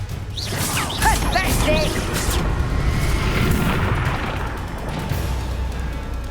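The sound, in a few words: Confringo fire-blast spell explosion from Hogwarts Legacy video game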